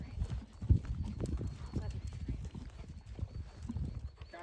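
Hoofbeats of a horse cantering in a riding arena thud in a rolling rhythm under an instructor's frequent coaching voice, moderately close and soft.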